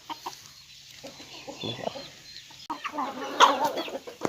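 Yellow white-tailed chickens about five to six months old cluck and call in a farm setting, a string of short clucks rising to a louder burst of calls near the end, with faint background noise.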